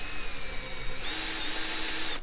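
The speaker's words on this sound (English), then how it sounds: "We've taken the little handle off the ring file tool, put the drill on, clamped it to the table" An electric drill clamped to a table spins a ring file tool for gapping LS1 piston rings, a steady whine that shifts to a higher, brighter pitch midway as the speed changes, close and continuous.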